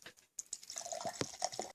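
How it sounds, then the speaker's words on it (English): Tango Cherry soft drink poured into a plastic UFC cup, with a continuous trickling, fizzing stream of liquid lasting under two seconds, close and fairly quiet. "I'm actually going to pour half of Tango Cherry in this UFC cup"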